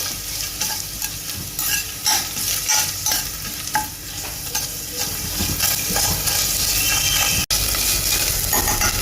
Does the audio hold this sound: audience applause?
no